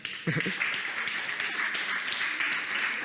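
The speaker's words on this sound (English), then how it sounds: "A big applause." Audience applause after a startup pitch at the CBC 2022 Global Finals, steady moderate clapping from a crowd, with a brief voice at the start.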